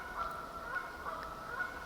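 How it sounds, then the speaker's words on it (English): A flock of geese honks on a pond a short way off outdoors, with repeated calls at an uneven rhythm over a steady background hiss. "Bunch of geese going off in the pond down here."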